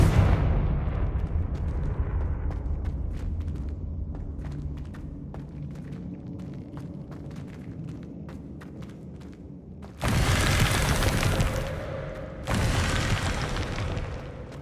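A Confringo fire spell exploding in Hogwarts Legacy, with a heavy rumbling boom under a dense crackle of small bursts, followed by two sharp louder blasts near the end, loud and continuous with no talk.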